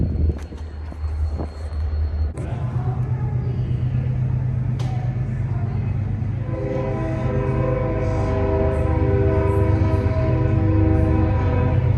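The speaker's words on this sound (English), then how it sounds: "I'm watching a freight train go by right now." A BNSF freight train passing by near a railroad crossing, a loud continuous rumble with a sustained horn blast building in the second half, close and dominant.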